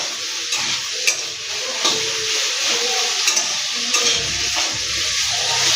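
A spoon stirs ginger garlic paste into chicken biryani in a hot pan, with steady sizzling and frying underneath and a few light scraping clinks, close and alone.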